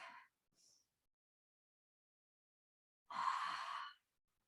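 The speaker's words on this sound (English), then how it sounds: "Breathing deep." Deep breaths during a yoga stretch: a short exhale, a faint breath, then after a pause one long audible breath, close and quiet with nothing else around.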